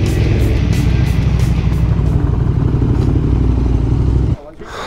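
A motorcycle rides steadily along a coastal Irish road, its engine a loud continuous drone with wind noise and a faint voice, then cutting off abruptly near the end.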